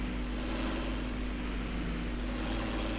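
A tractor engine in Farming Simulator 2017 produces a constant, loud, droning hum with steady tonal layers and no break, and no talk over it.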